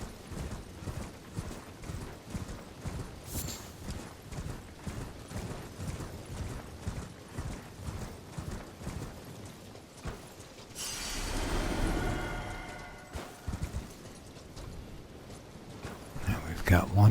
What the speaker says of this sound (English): Got one horsey down there, we've got one horsey up the hill